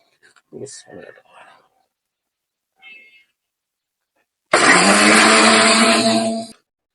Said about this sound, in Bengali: চাল ভাজাটা এখন ব্লেন্ডারে গুঁড়া করে নেব